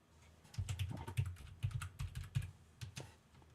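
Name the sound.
typing on a computer keyboard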